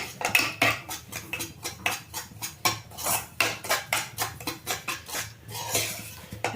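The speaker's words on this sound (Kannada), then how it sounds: "ರವೆ ಕೈ ಆಡಿಸ್ತಾ ಇರಬೇಕು ಸ್ವಲ್ಪ ಬಿಟ್ಟರೆ ಸೀದೋಗ್ಬಿಡುತ್ತೆ" Semolina (rava) roasting in a pan is stirred with a metal spoon that scrapes and clinks in a steady, repeated rhythm, close and clear with no talking.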